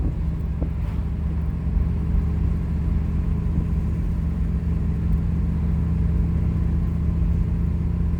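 A 1981 Recaro Daytona 500 Pace Car Turbo Trans Am with the muffler deleted cruises at about 45 mph, its engine a loud, steady low rumble heard from inside the car.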